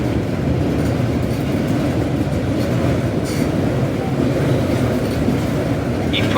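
A Trenitalia regional train from Verona Porta Nuova to Venezia rolls into a station platform, a loud steady rumble of wheels and carriages with faint background voices.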